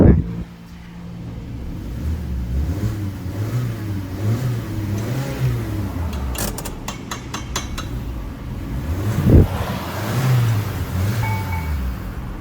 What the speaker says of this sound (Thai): รอบเครื่องยนต์ทำงานปกติ